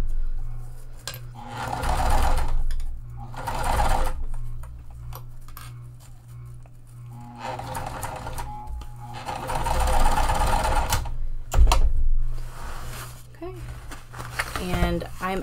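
A sewing machine fitted with a Teflon foot stitches over mesh while making a pool tote, its rapid mechanical whirring running in several bursts with pauses, with a person talking over it.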